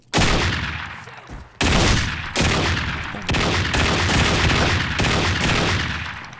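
Rapid gunfire from a weapon in Postal 2 with the ED mod, sounding as dense, loud, crackling bursts that roll on almost without pause, with no talk over them.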